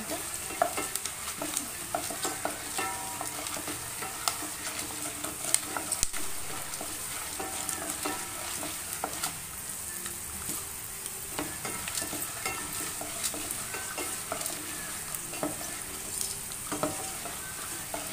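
Steady sizzling and crackling of soaked, parboiled peas frying in a tempering in hot oil, with occasional stirring scrapes throughout, no voices.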